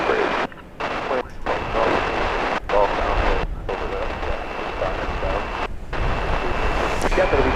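An American Airlines Airbus A319 takes off at DFW Airport with a loud, continuous broadband jet roar that is broken by several brief dropouts.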